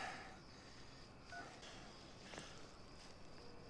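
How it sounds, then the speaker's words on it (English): Telephone keypad being dialed, with a few faint, brief touch-tone beeps set low beneath a quiet background. "He's using the phone."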